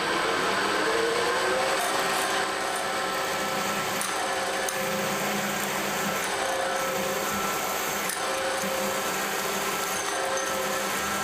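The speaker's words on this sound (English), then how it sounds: "I'm going to drill a 3/8 hole" A drill bores a 3/8 hole in a workpiece clamped in a vise, a loud steady motor whine and grinding hum that carries on without a break, with a few faint periodic ticks.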